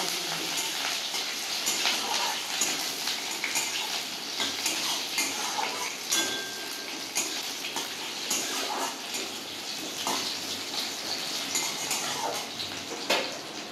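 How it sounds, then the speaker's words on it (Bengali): Chopped onions frying lightly in oil for a kakrol and potato masala, a continuous bright sizzle with frequent spatula scrapes and clinks against the pan, close and steady throughout with no talking. "পেঁয়াজগুলো হালকা করে ভেজে নিয়ে আমি আলু আর কাঁকরোলটা দিয়ে দেব।"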